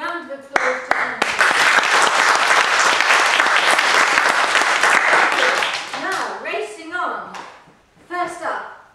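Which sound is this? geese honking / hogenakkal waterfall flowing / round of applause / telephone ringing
round of applause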